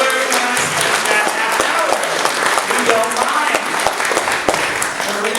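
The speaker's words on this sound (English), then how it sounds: "So I just need everybody to look at Deb and applaud her." An audience at a speaking event applauds a speaker. The clapping is loud, dense and continuous for several seconds, with voices mixed in.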